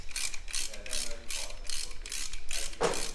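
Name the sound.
ratchet removing spark plugs from 1966 Ford Cortina engine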